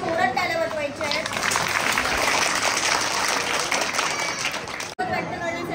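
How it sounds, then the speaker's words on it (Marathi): A crowd of children, teachers and villagers claps loudly and steadily at an Independence Day school celebration. The applause runs throughout, with chatter and voices mixed in, and a brief cut near the end. "सर्वांनी जोरात टाळ्या वाजवायच्या आहेत"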